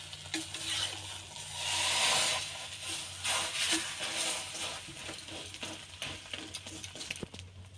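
Beaten egg sizzling and frying in an oiled pan for a restaurant-style egg roll, a steady close crackle with some stirring and scraping, no talking.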